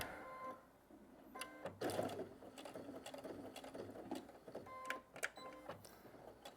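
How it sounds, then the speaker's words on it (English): A sewing machine back stitching through fabric makes faint, quick mechanical clicks and rattling in short uneven runs, heard close up in a quiet room with no talking. "I'm going to back stitch a couple of times first, and then I'm going to go forward."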